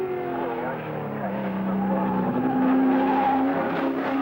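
A Marlborough Holden dealer team touring car driven by John Harvey on a fast lap across the top of the mountain, engine note steady and high, rising in pitch through the run, heard from onboard with commentary over it.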